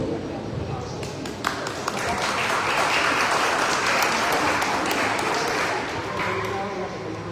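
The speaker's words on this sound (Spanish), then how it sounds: "Se vuelve a aplaudir." Audience applause fills a Spanish-language tribute event, a dense wash of clapping that swells and holds steady for several seconds before easing slightly near the end, with scattered louder claps standing out.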